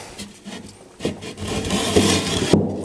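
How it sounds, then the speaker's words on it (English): A wooden shelf slides into a dado slot in a display case, making one short dry rubbing scrape that builds over about a second and a half and ends with a light knock. "And my shelf goes right back into this slot."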